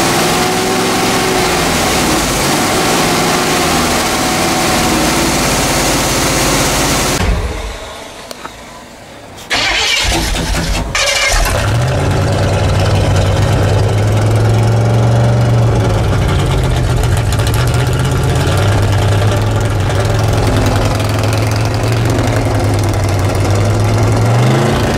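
A loud skid steer engine runs continuously at close range, cuts out for a couple of seconds, then restarts and settles into a steady rumbling idle.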